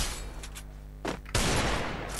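Gunfire in a shooting video game, a dense burst of shots that swells loud after a brief lull, sounding close and harsh with no talk over it.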